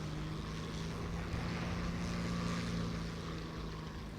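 A propeller fighter plane's engine in the War Thunder flight combat game, set in the Guadalcanal air battles: a steady, loud, continuous drone with a constant low hum running throughout, no talking.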